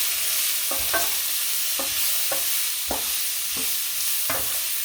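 Onions and thin strips of steak fry in a pan with a steady, loud sizzle, while a utensil scrapes and stirs through them in repeated short strokes, close up and with no voices.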